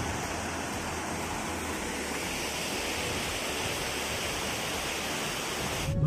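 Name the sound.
Vajrai waterfall, water falling from above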